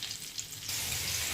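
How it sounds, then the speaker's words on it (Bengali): Salted, turmeric-coated potato pieces fry in a pan with a close, steady sizzle that swells abruptly into a louder, fuller hiss partway through. "আলু ভাজা বসিয়ে দিয়েছি।"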